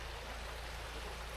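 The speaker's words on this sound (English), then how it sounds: "we've got the creek, Cub River Creek, flowing through the campground." Cub River Creek flows through a campground in the Cache National Forest, a steady, even rush of moving water that fills the short clip with no other sounds.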